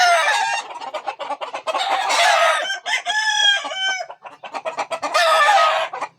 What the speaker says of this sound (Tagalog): Napakaingay na mga manok dito.